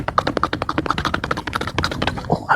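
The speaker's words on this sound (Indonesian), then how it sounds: "ngetik dia sekarang ngetik" Fingers tap rapidly on a computer keyboard, a dense run of crisp, close clicks with brief pauses between bursts, clearly heard and unaccompanied by talk.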